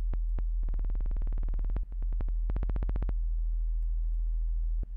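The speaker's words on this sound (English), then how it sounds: "Now we have a sine wave." A synthesizer sine tone pulses in quick, evenly spaced bursts, two long runs of rapid beeps with a few isolated blips between, loud and clean over a steady low hum.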